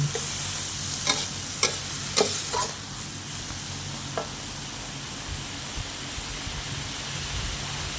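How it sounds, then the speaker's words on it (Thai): Tofu stir-fried with soy sauce and oyster sauce in a hot pan, a steady close sizzle broken by several sharp scrapes and clanks of the spatula early on. "ผัดให้เข้ากัน"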